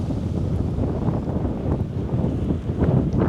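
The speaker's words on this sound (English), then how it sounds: "Wow, the wind is picking up." Strong wind gusts near open water, buffeting the microphone with a steady, loud, low rumble and no voices.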